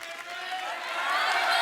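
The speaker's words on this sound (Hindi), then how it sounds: "जोरदार तालियां हो जाए" Loud applause and cheering from a studio audience at a Hindi comedy talk show, a dense, rising wash of clapping that swells toward the end.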